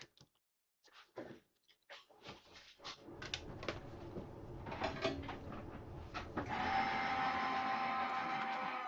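A handmade peek-a-boo slider card is fed through a paper crafting machine, with scattered handling clicks and thumps building into a steady, close mechanical whirr and rumble as the rollers draw the card through.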